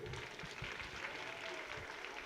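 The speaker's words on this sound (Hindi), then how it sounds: "तालियां बजाएं बच्चे" Children clapping together at a school annual function award ceremony, a steady, dense patter of applause that runs evenly throughout at moderate loudness with no voices over it.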